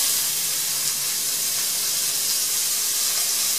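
Two cups of chopped onion hit hot olive oil in a pan, producing a loud, steady, broad sizzle and hiss that fills the whole clip without talk.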